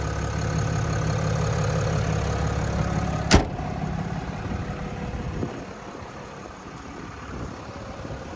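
A 6.7 liter Cummins turbo diesel in a 2024 RAM 2500 Limited Night Edition idles with a steady, low rumble, broken by one sharp knock or clunk partway through before settling quieter.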